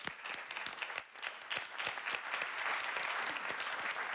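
An audience at the 2015 Milken Global Conference breaks into applause, a full, continuous wash of many people clapping that swells slightly and holds steady without any talking.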